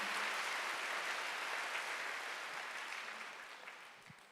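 Broad applause from a congregation at a Korean Sunday service. The clapping is dense and sustained at first, then gradually thins and fades toward the end.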